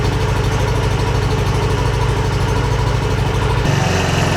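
A Yamaha NMAX scooter fitted with a UMA back pressure muffler runs steadily and loudly up close, a throbbing engine note that drops in pitch near the end.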